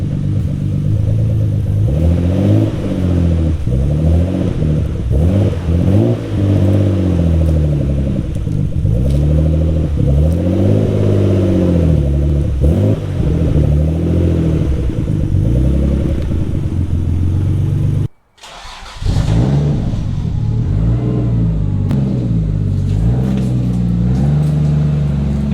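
A Toyota Supra MK3 with the 7M engine revs loud and close throughout a drive, its note rising and falling in repeated sweeps, with a brief gap near the end before it resumes.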